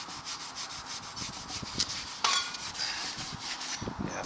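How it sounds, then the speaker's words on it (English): Sandpaper of 120 grit rubs rust off metal during a carrier bearing replacement, giving steady, close scratchy strokes in a continuous rhythm with a few sharper scrapes. "120 grit sandpaper"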